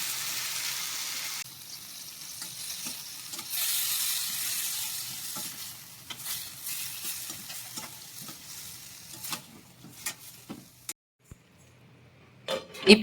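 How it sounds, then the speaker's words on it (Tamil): Loud, steady sizzling of marinated chicken frying in hot ghee, with stirring scrapes and clinks of a utensil against the pan, the hiss easing toward the end. "நம்ம ஊற வச்சிருக்க சிக்கன் ஆட் பண்ணி இந்த நெய்ல நல்லா வறுத்துட்டு"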